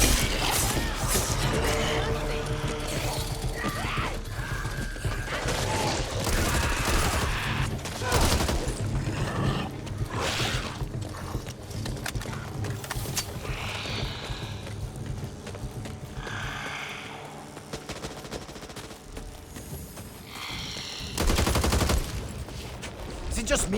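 Gunfire rattles through a Back 4 Blood game battle: dense bursts and rapid shots mixed with game sound effects and a loud musical score, with voices calling out in between.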